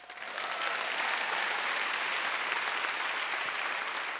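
Crowd at a political comedy show breaks into applause in agreement, swelling quickly to a dense, sustained roar of clapping that holds steady before easing slightly.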